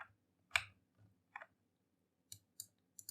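Sparse clicks of typing on a computer keyboard, quiet and close: a single tap, a louder keystroke, a couple of soft hits, then a short run of three or four crisp taps near the end, with no talking.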